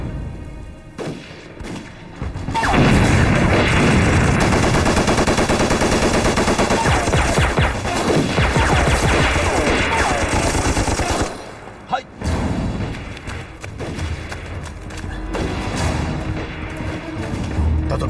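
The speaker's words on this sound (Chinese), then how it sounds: "现在开始就在这儿开枪" Sustained automatic gunfire and rifle shots in a war drama set during the war against Japan, loud and dense with rapid bursts and booms, briefly dropping off near the middle before resuming more sparsely.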